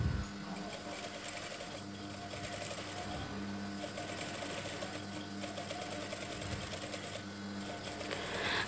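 A sewing machine runs steadily, stitching a straight line along a drawn guide mark for about nine seconds with an even mechanical hum and rapid needle clatter, no talking.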